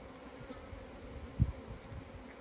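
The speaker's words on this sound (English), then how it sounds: "There's still lots of bees in here" Honey bees buzz softly inside an open hive, a faint, steady hum with one brief nearby thump partway through and no voices.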